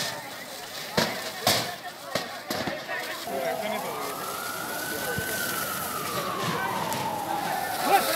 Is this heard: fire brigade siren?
yes